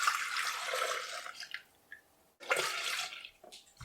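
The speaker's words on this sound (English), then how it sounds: "So I'm going in with 1 liter of milk," One liter of milk pours steadily into a Thermomix bowl, a close, soft liquid splashing that breaks off briefly and then resumes.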